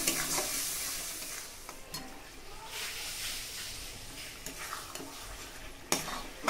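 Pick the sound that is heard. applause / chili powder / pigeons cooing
chili powder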